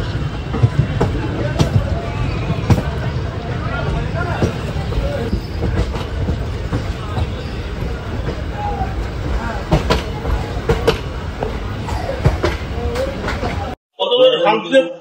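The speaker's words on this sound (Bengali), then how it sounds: "আমরা এসেছিলাম শিয়ালদা থেকে 7:20-তে তারামা এক্সপ্রেসে" The Tara Maa Express from Sealdah rumbles along from inside a carriage, a continuous loud clatter of wheels on rails, with a voice talking over it before the noise cuts out near the end.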